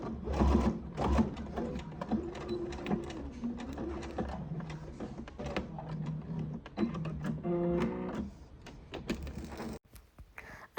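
Sewing machine stitching the handles of a tennis bag, a steady mechanical whir running in short bursts that pause and restart, close and fairly loud, with a final stop near the end.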